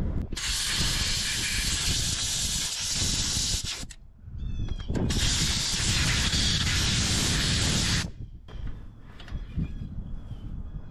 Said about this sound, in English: So I'm gonna take the compressor and blow out all those little depressions around the plugs before I pull them out.